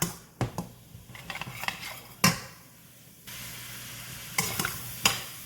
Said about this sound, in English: you want to stir to make sure that your vegetables become translucent but not burnt or brown